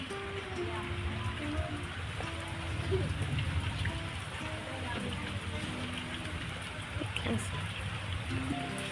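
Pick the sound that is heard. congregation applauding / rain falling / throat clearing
rain falling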